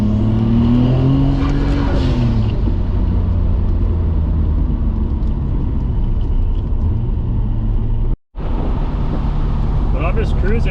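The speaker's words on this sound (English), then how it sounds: "I'm just cruising in 5th gear up these hills and around these corners, around 1500 RPMs." A 500 hp Nissan Skyline GTR cruises in fifth gear at low revs, its engine a steady, loud droning hum with a slight pitch sweep, briefly cut by a short gap near the end.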